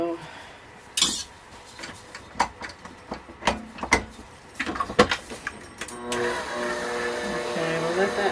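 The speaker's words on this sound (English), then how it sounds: "So then we'll just put this on the mixer and let it mix" Bath bomb dry ingredients first clatter in a bowl with a series of sharp knocks and clinks, then a stand mixer starts and whirs with a steady motor hum to the end.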